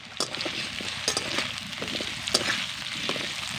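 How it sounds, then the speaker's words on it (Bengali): Pumpkin pieces fry in oil in a pan, giving a close, continuous sizzle broken by scraping stirs and small clattering knocks, with no voices. "কুমড়োগুলোকে আমি দু মিনিট মতন সময় ধরে ভেজে নেব"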